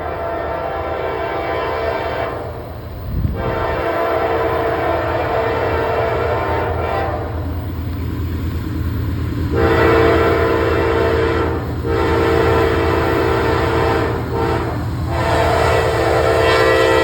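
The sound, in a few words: train passing with a fresh locomotive leading, horn sounding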